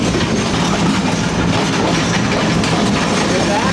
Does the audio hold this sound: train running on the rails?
yes